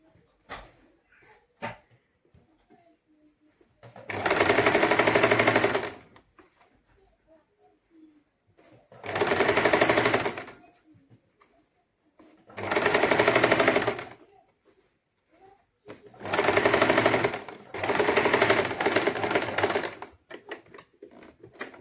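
A sewing machine stitches a lined saree blouse in five separate loud runs of rapid needle clatter, each lasting one to two seconds, with quiet pauses between them.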